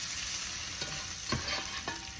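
Bacon sizzles and fries in a pan with a steady, close crackling hiss and a few light stirring scrapes, with no talking.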